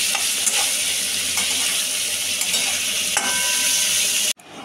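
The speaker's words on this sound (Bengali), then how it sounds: "এবার মা কাঁঠাল বীজের দানাগুলো ভেজে নিচ্ছে।" Boiled jackfruit seeds fry in hot oil with a steady, dense sizzle, joined by occasional stirring clinks near the end before a brief drop-off.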